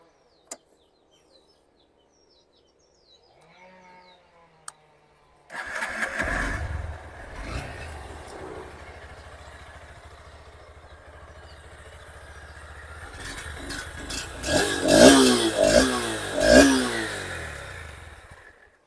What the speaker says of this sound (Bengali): চলুন তাহলে শুরু করা যাক এই বাইকটায় এক্সস্টের সাউন্ড